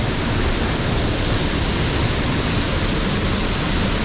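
A loud, constant roar of rushing water from the Trefflingfall waterfall in the Ötschergräben gorge fills the space, dense and unbroken throughout.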